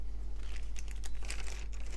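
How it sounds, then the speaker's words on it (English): Crunchy oven-dried coloured paper from a junk journal is handled up close, giving a run of crisp crinkles and rustles. "some very yummy, crunchy oven dried coloured paper"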